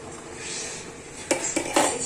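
Parsley and sawtooth-leaf vegetable soup boiling in a pot is stirred, giving a steady bubbling hiss followed by three close, sharp scrapes and clinks of a utensil against the pot.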